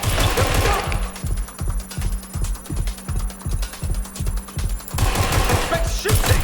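Rapid bursts of automatic gunfire ring out in a Watch Dogs Legion firefight, a steady rattling stream of shots under a dense, loud game soundscape, with heavier chaotic noise at the start and end.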